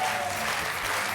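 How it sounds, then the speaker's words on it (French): Studio audience applauding on a French TV game show, a steady dense wash of clapping filling the short moment without any voices. "Je voudrais vraiment qu'on applaudisse fort."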